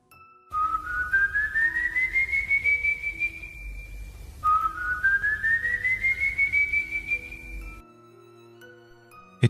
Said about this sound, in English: At exactly 3:03 we heard the whistling.